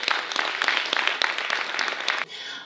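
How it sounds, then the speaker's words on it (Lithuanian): Audience applause at an outdoor festive stage event, dense rhythmic clapping from a moderately sized crowd that cuts off abruptly near the end, leaving a faint hiss. "tad dar kartelį jūsų aplodismentai"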